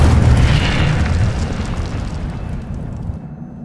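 Incendio fire spell blast in the video game Hogwarts Legacy, a single loud booming whoosh that bursts at once and fades away over a few seconds.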